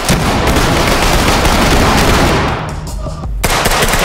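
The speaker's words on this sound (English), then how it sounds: "Shotgun!" Loud, dense burst of gunfire in the tactical shooter Ready or Not, shotgun blasts amid continuous shooting in a tunnel fight, easing briefly before resuming.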